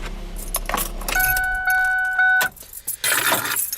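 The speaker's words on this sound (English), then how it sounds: "I had to label my keys because I have so many." Keys jangle and clink loudly as a large ring of many labeled keys is handled near a 2005 Ford Focus during an oil change, with a brief steady tone and some bumps in the background.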